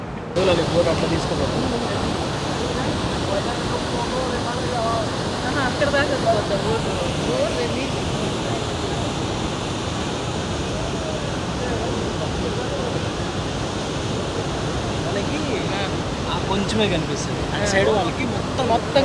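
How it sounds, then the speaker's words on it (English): Niagara Falls seen from a viewpoint near Horseshoe Point in the state park, a steady, dense roar of falling water filling the whole clip at an even level, with no clear voices over it. "So there are multiple spots from where you can actually view the waterfalls from a closer view."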